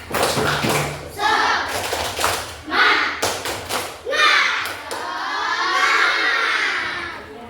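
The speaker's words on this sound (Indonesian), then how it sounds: "Tepuk semangat." Schoolchildren in a classroom do a rhythmic spirit clap, bursts of claps and group shouts in quick patterned sections, loud and close, ending in a sustained cheer.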